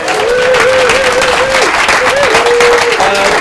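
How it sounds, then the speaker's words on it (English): Studio audience clapping at a live charity broadcast, loud and close, heard under a sustained melodic tone, likely music playing throughout. "Go on, give a big round of applause to yourselves."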